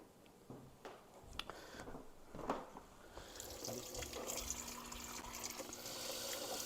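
Tap water runs and splashes over heart meat being rinsed in a sink before grinding for sausage, with a few clunks and drips before the flow grows steadier and louder.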